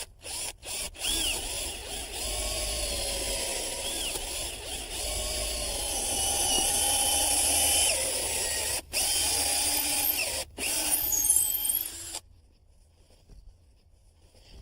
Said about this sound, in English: Are we ready to drill? We are. It starts with a pilot hole.